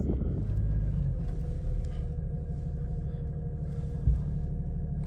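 An old Jeep drives onto an interstate highway, its steady low engine and road rumble filling the cabin with a constant drone and a brief bump near the end, no voices.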